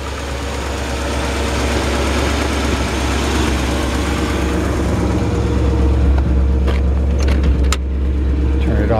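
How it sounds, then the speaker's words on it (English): A 1957 Chevrolet Bel Air engine idles steadily and close, a deep continuous rumble with a low throb, just after a tune-up; faint clicks and handling noises appear late. "I mean, listen to that engine."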